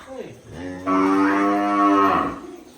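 Holstein Friesian (HF) cows on a farm in Gujarat, a long, loud, close moo with a rich, steady drone held for about a second and a half, preceded by a short lowing call.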